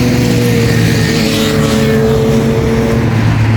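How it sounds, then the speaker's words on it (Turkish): A motor engine drones steadily and loudly throughout, with a sustained low hum and shifting tonal whine, no voices present. "Yine bir motor sesi zevki."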